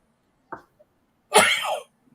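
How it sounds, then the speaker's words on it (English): A short cough, then after a pause a longer, rough, breathy cough burst, close to the mic with silence around it. "I'm sorry, I'm coughing in my lungs."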